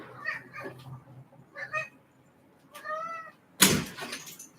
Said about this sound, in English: Let me open the door for my cat.